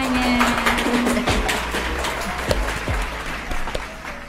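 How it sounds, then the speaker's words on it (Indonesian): Audience at a school podcast event clapping, a dense patter of many hands with scattered louder individual claps, fairly close and continuous without speech. "Tepuk tangan dulu semuanya."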